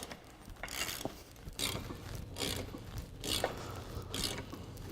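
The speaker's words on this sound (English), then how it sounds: "I'm going to run this bolt all the way in, and it may take a little bit to do so." A caging bolt on a heavy-duty brake chamber is turned in by hand with a socket, giving repeated scraping, ratcheting strokes in an irregular rhythm, close and moderately loud with no talking.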